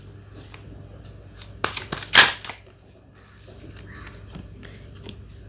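Tarot cards flipped and shuffled by hand, a quick cluster of sharp papery snaps and riffles in the middle, close and fairly loud, over a quiet background.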